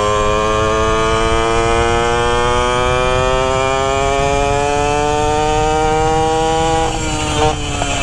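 A 64cc stunt moped engine drones loudly and steadily, its buzzing pitch rising slowly as it holds speed on a ride, then dipping briefly near the end.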